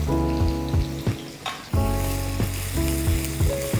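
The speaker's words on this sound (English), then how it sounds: "I'm going to be adding 1 medium-sized onion, finely chopped" Finely chopped onion hits hot oil with cumin seeds for baingan bharta, giving a continuous close sizzle with a few brief stirring bumps and no voices.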